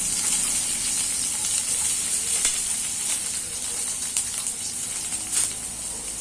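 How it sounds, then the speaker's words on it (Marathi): Onion frying in hot oil in a pan for a restaurant-style soya chilly dish, giving a continuous bright sizzle with crackling pops and stirring, close and steady with no talk. "आणि आता आपल्याला कांदा घालायचा आहे"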